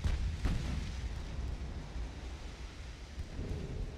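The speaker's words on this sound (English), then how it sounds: "what I assume is 2 and 3 inch fire" Naval gunfire from 2- and 3-inch guns in the warship game Ultimate Admiral: Dreadnoughts comes as a dull, distant rumble with a few soft thuds near the start, continuous and fairly faint.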